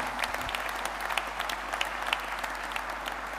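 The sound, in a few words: audience applause at hunters' conference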